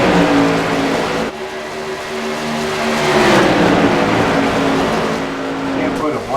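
Whelen Modified Series race cars roar around the Dover track in a loud, continuous pack, engine tones shifting and sweeping as cars pass close by, with a commentator talking over the din.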